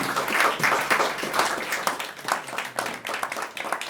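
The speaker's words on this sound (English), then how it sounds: "please join me in giving him a warm round of applause" A lecture-recital audience applauds to welcome the lecturer, Michael Walsh, with a dense, steady wash of many hands clapping throughout and no talking.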